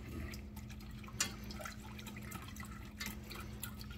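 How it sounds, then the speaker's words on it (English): Milk is whisked back and forth in a pot, producing faint, soft liquid sloshing and light drips at close range over a low steady background hum; no talking. "you start whisking just back and forth and in a figure 8"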